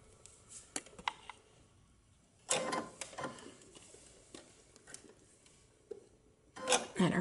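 A sewing machine stitches a knit V-neck neckband in short mechanical bursts, a quick whirring run, then pauses with small clicks and another brief burst near the end.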